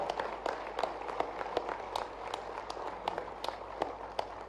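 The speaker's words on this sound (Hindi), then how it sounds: "एक बार ताली बजे तो ऐसी करना चाहिए।" An audience at a government school event applauds, a dense, continuous patter of many hands clapping at moderate volume with scattered sharper claps standing out, heard somewhat distant.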